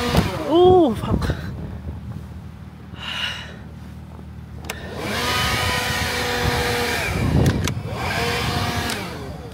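A snow blower runs steadily in cold, gusty wind while clearing light snow, its broadband engine and blowing noise rising and holding through the middle and end, with brief breaths and vocal sounds near the start.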